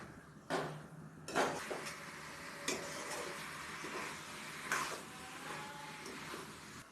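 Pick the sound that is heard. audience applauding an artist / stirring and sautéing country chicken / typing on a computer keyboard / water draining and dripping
stirring and sautéing country chicken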